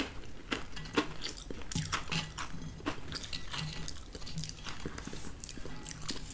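Clover Valley classic original potato crisps crunched and chewed up close, a steady run of crisp, irregular bites and snaps at low volume.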